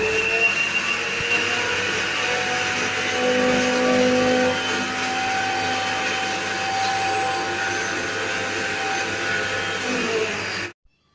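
A kitchen mixer grinder blending coriander chutney with salt, a loud steady whirring motor hum that runs without a break for about ten seconds and then cuts off abruptly.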